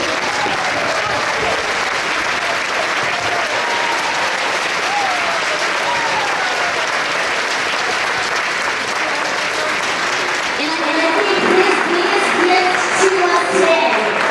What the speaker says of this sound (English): I'd love all of you to stand up, give him a round of applause